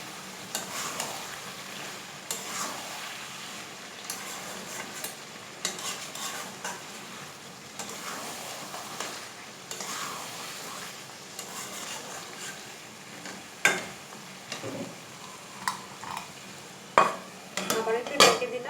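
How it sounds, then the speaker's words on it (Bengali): Poultry chicken being stirred and fried in a pan with lemon leaves, a soft sizzle under repeated scraping and clinking of a spatula against the pan, with louder knocks near the end. "ভালোভাবে নেড়ে চেড়ে কষিয়ে নিব।"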